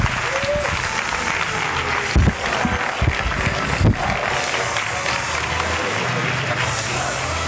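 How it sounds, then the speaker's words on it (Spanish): Loud, sustained clapping from a large audience at a stand-up comedy monologue show, steady throughout with a few louder bursts and some crowd noise mixed in. "¡Aplauso fuerte para Tico!"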